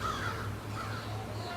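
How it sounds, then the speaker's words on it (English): A short run of crows cawing outdoors, a couple of harsh calls rising over a steady low background hum, moderately close and alone without talk. "Nothing like them crows to get you going in the morning."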